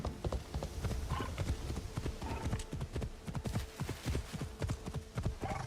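Horse hooves clip-clop steadily beneath a rider in Assassin's Creed Shadows, a continuous rhythmic trot of close, moderately loud hoofbeats with a faint whinny partway through.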